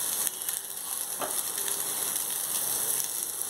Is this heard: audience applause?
no